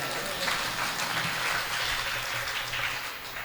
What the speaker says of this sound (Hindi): ऐसे दयालु परमात्मा के लिए जोरदार तालियां बजाएं।